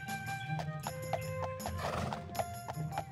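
A horse in the game Daggerfall Unity, with rhythmic clip-clopping hooves and a whinny, close and clear over sustained background music.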